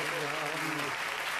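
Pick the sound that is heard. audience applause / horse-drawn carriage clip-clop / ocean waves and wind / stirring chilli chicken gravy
audience applause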